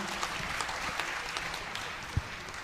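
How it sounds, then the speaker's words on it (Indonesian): An audience at an Indonesian event gives steady applause, a dense, moderate clapping with a few sharper individual claps standing out, and no talk over it. "Beri tepuk tangan, silakan sekali lagi."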